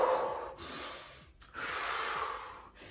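During a legs-and-glutes workout, heavy breathing comes up close and loud: long, forceful exhales and sharp, gasping inhales, with two brief pauses between breaths.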